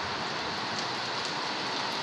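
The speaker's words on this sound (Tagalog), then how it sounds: "Ulan na karon." Steady rain falls in Saudi Arabia just after a hailstorm, a dense, even hiss of drops on surfaces that holds constant throughout without any voices.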